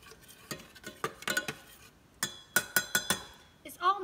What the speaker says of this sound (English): I'm just gonna stir it a minute